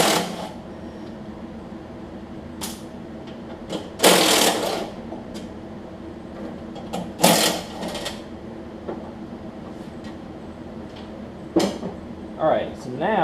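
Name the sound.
removing four bolts on a Craftsman LT1000 riding mower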